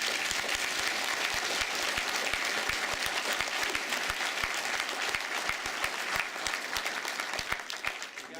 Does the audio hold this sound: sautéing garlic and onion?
no